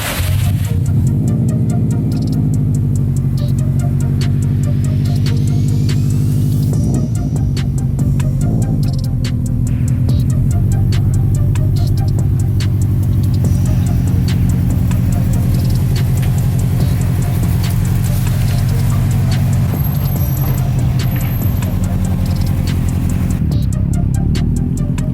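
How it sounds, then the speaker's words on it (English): A Subaru STI cold start, its engine settling into a steady, loud, close idle with a continuous low rumble and a faint ticking, held throughout without talk. "Let's go to cold start for the boys."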